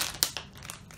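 Plastic packaging of a fidget toy bucket being torn and crinkled open, close and crisp, with a sharp rip near the start followed by softer rustling.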